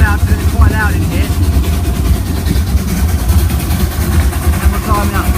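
Mad Bess, a locomotive on the Ruislip Lido Railway, gives a loud, steady engine exhaust rumble heard from close by, continuous throughout.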